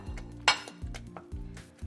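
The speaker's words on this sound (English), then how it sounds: "Give it a nice stir" A spoon stirs risotto with Parmigiano Reggiano in a pan, tapping and scraping the metal in a steady repeating rhythm, about four strokes with one sharp clink, close and fairly quiet.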